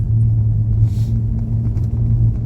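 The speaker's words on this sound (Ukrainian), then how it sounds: "Зараз їдемо по брусчатку, мабуть, вас трасе і шумно, так?" Car driving over cobblestones on a cold, damp, foggy street, heard from inside as a loud, steady low rumble with a constant droning hum and no pauses.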